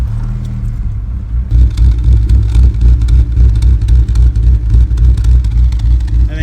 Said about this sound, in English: I'm gonna go ahead and start it and let you hear the chop chop sound